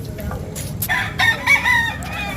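Chickens on a farm cluck and call in short, overlapping bursts, with a rooster-like crow rising partway through, close and moderately loud over a low background rumble.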